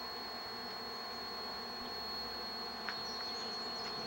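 Bees hum around a small nest outdoors in a faint, steady high drone that holds throughout, with a few brief clicks and no voices.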